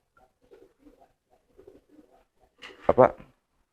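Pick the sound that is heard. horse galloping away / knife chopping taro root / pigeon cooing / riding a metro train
pigeon cooing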